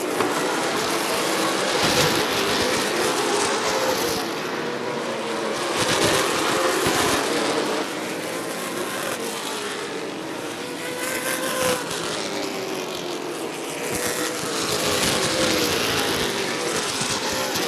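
Super late model race cars roar around Rockford Speedway, engine noise swelling and fading as the pack passes, loud and continuous with a distant crowd-like wash.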